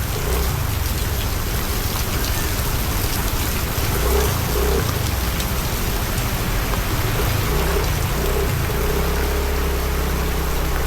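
Heavy typhoon rain pours in a dense, unbroken roar during a power outage, with a low engine hum underneath throughout.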